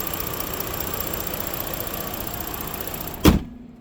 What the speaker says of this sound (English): It's got a nice engine. Idling nice and smooth.